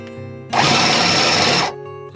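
A small Aldi mini sewing machine runs in one loud, steady burst of about a second, its motor whirring and needle clattering continuously before cutting off, with quiet room hum on either side.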